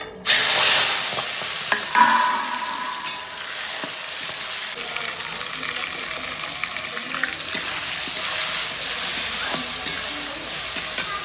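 Panch phoron and chopped tomato sizzling and frying in hot oil, a steady loud crackle with stirring scrapes throughout, no talk.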